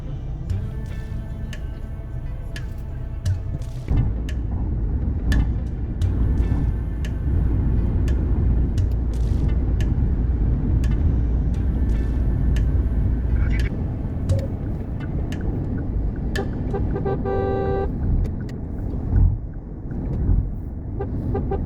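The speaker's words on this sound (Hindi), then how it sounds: "बहुत ज़्यादा ट्रैफिक है।" Heavy road traffic on a highway on the way to Bangalore, past a roadside Sunday market: a dense, loud rumble of engines with passing vehicles, scattered horn toots and clanks throughout, no talking.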